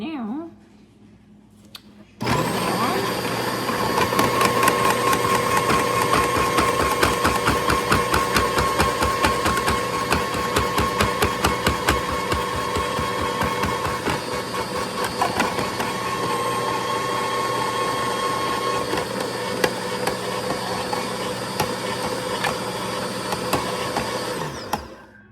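An Anbull 7-in-1 electric salad maker starts with a sudden motor whir and slices a cucumber, a loud steady hum with rapid clattering of the cutting blade that runs to the end.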